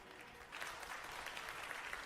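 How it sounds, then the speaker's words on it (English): A large audience in many seats gives a faint, distant round of applause at a wrestling-style arena show. The clapping is steady and sustained throughout. "decent applause coming from a large number of seats in the audience"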